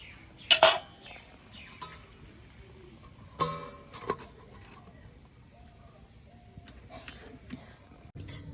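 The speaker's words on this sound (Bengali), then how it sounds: "একটু নাড়িয়ে চাড়িয়ে আবার ঢাকা দিয়ে দেবো" A spoon clinks and scrapes against a metal cooking pot while sponge gourd is stirred, with a few sharp taps and faint scraping over a quiet kitchen background.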